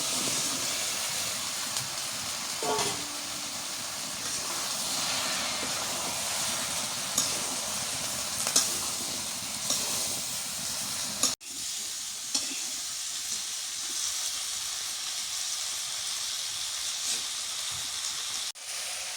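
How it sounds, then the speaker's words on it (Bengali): Okra frying and sizzling in a pan during village-style cooking, a loud continuous hiss with occasional stirring scrapes, quieting after a sharp knock partway through as the sizzle settles lower. "ঢেঁড়সটা ভালো করে কষাই নিলাম"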